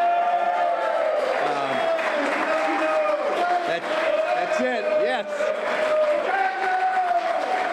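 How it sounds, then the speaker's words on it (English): Public works staff cheer at a send-off for two departing colleagues, a loud mix of crowd voices, whoops and scattered clapping that runs throughout with a person speaking through it. "let's hear a little cheer for these two guys"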